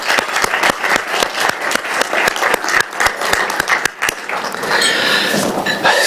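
A conference audience at a Serbian economic summit working breakfast applauds loudly and steadily, with dense, overlapping claps that hold for several seconds.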